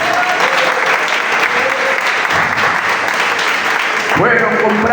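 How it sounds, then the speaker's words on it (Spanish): Sustained applause from a church congregation honoring the women, dense steady clapping filling the room throughout, with some voices mixed in near the end. "Ese aplauso para las mujeres."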